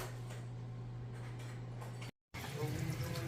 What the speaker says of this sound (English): we've got water running in the bathroom sink right now